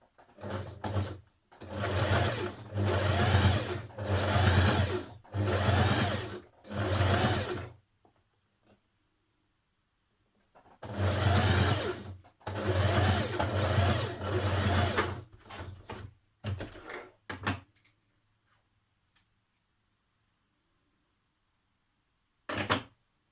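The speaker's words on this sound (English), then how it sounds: "Now top stitch 6mm from the finished edge once you've pressed it." A sewing machine top-stitches a trouser pocket edge in two long runs of rapid, rhythmic needle clatter, each broken into short bursts, with quiet gaps between and a few brief clicks near the end.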